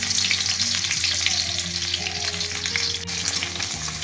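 Chopped onion and whole cumin seeds sizzle steadily in hot mustard oil, a dense, continuous frying hiss close by with faint stirring scrapes and no talking.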